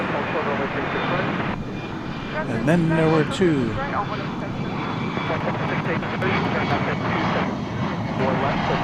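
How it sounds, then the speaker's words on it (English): Martinair Boeing 747 cargo jet at Dallas/Fort Worth airport, a steady broad engine roar in the near distance that rises slightly mid-way, with someone talking over it throughout. "we got another Martin Air Cargo Master there"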